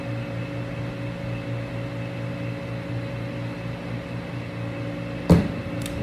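Kitchen fans blow with a steady, even whoosh and low hum while pork is seasoned with salt and pepper. A single brief knock sounds near the end.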